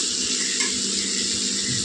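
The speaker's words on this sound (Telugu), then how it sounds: "ఇందులో తగినన్ని నీళ్ళు వేసుకోవాలండి కూర ఉడికేలాగా." Water is poured steadily into a pan of bitter gourd curry cooked with tomatoes in oil. The pour makes a continuous close rushing splash that carries on without a break.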